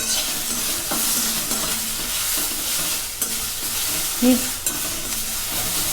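Onion and tomato fry in a pan with a steady sizzle and the scrape and clatter of stirring, close and continuous, no voices.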